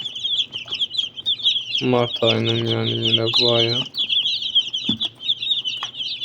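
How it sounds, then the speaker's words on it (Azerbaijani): A crowd of newly arrived broiler chicks cheeps in a constant, dense, high-pitched chorus close by, while someone speaks briefly partway through. "Cücələrimiz gəlib"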